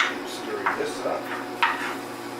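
Tomato soup being stirred in a pot, with a few soft scraping strokes of a utensil against the pot over a couple of seconds.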